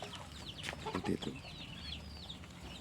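Free-range village chickens cluck nearby in a busy, ongoing chorus with scattered short calls, and a brief spoken phrase slips in.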